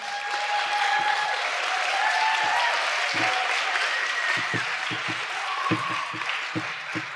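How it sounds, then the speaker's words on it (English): Audience at a closing address of a human rights and animal rights conference applauds the organizers, a steady, even wash of clapping that holds throughout with no one speaking over it. "All right, so round of applause for the organizers."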